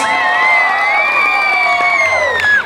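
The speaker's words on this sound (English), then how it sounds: "Give him a big round of applause" Wedding reception guests cheer and whoop for the groom, a steady loud crowd roar with high shouts and whistles running throughout, no clear claps standing out.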